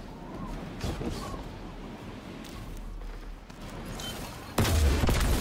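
A rocket explosion in Destiny 2 lands as a sudden loud boom near the end, after a stretch of rumbling gunfire and combat noise with faint voices.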